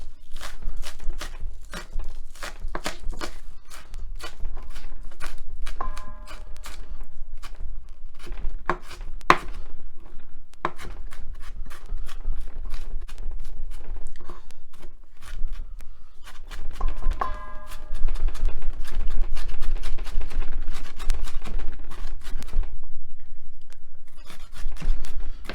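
Onions being diced with a knife on a cutting board for meatballs, heard as rapid, close chopping taps in dense bursts broken by brief pauses.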